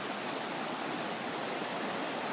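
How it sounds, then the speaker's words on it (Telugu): A clear snowmelt stream near Grand Lake rushes steadily along, a soft, even, continuous watery hiss with no talking. "ఇప్పుడే స్నో మెల్ట్ అయి పడుతున్నది కదా"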